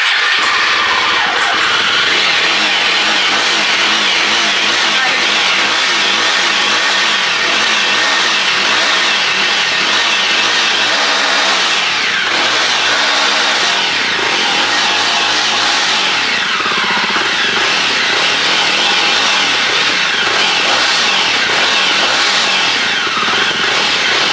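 A Jawa motorcycle engine runs steadily and loud throughout, revving up and down in repeated swells with a rough mid-range drone and no talk over it.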